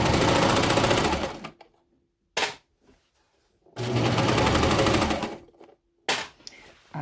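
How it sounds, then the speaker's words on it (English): A serger machine stitches seams in fabric for a skort's shorts, running in two loud, steady bursts of fast whirring, each a little over a second long, with short clicks and pauses between them and no talking. "now we've got it here in our serger, and we're going to start stitching that together"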